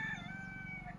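A rooster crows in an outdoor rural setting along the Narmada riverbank during a pilgrimage walk, one sustained crow heard fairly close over steady low background noise, with no speech.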